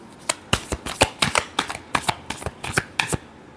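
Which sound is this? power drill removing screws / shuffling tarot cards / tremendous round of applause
shuffling tarot cards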